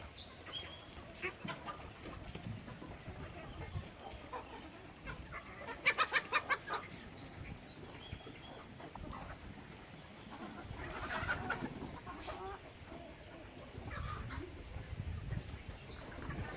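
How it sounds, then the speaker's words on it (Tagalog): Chickens clucking as they feed outdoors, soft scattered clucks and a few louder bursts from nearby hens over low background noise, with faint talk now and then. "Kumakain din yung mga manok natin."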